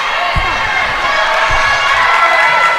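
A loud crowd of spectators at a middle school volleyball championship roars continuously, with a few dull thumps of play under the steady cheering and shouting.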